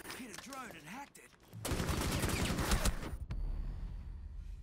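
Automatic gunfire in Rainbow Six Siege, Operation Steel Wave, erupts after a short stretch of talk, a loud sustained burst of rapid shots lasting nearly two seconds before cutting off to quieter ambience.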